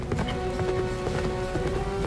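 Horse hooves clip-clop in rapid, even rhythm in the Sonic and the Black Knight video game, loud and close over a sustained tonal music bed.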